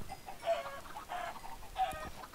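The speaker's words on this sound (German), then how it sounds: "So, jetzt töte ich die restlichen Hühner noch." Minecraft chickens clucking as they are killed: three short, fairly loud bursts of clucks, evenly spaced and heard without speech.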